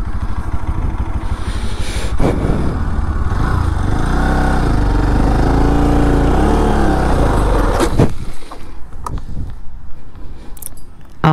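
Bajaj NS200 motorcycle engine revving hard during a burnout attempt, a loud sustained roar close by that rises and holds for several seconds, then drops away to idle with a few clatters.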